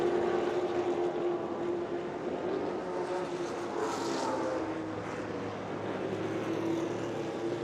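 A red 1969 Chevron B16 race car at a vintage racing reunion roars past as a loud, sustained engine drone with a continuous broad rumble and a slight swell midway.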